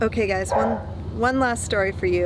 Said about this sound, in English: He just will not stop barking.